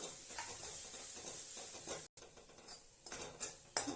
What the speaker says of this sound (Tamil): இதையும் சேர்த்து இதையும் நல்லா அப்படியே வறுத்து எடுத்துடலாம்